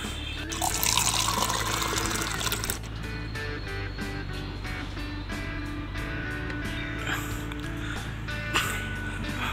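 Water runs steadily from a tap at a mosque in Bangalore, a close splashing stream into a basin with a louder gush at first, then continuing flow with small clicks and drips.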